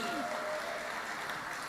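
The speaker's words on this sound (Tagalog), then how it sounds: "Palakpakan po natin sila." At a homecoming main program, an audience gives applause to the Ruby Jubilarians, a soft, even wash of many hands clapping at a distance, with a voice faintly heard at the start.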